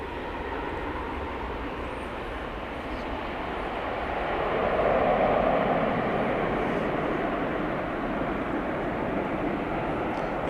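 A Spirit Airlines jet at DFW Airport rumbles in the hazy distance, a steady broadband engine roar that swells gently midway and stays fairly faint throughout.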